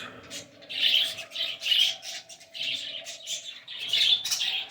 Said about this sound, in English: Little video of my birds.